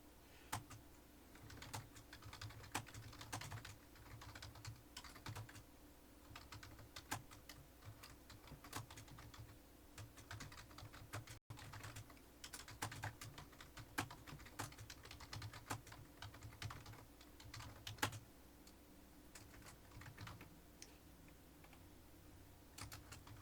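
Typing on a computer keyboard, a quiet, steady run of light key clicks at close range with no talking.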